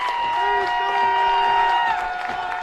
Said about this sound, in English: You may hear the crowd behind me.